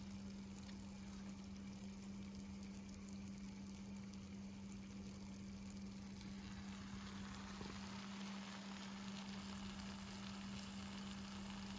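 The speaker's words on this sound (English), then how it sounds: "Sizzle, sizzle, sizzle." Steady hiss and crackle of oyster mushrooms frying in a pan, with a constant low electrical hum underneath; no talking.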